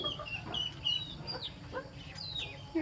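Chickens cluck and chirp close by in a farmyard, short repeated calls and peeps overlapping with soft scratching, while a small chick pecks at ducks nearby.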